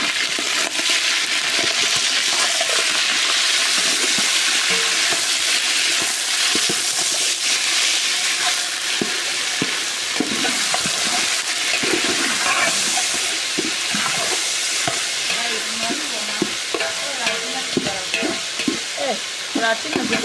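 Rice pilau with meat being stirred and mixed in a pot, a steady sizzle of hot cooking with repeated scraping and clattering stir strokes throughout, no voices.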